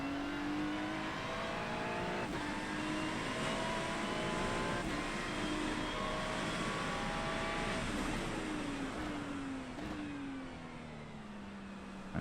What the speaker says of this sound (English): Let me know if you can hear enough of the car, by the way.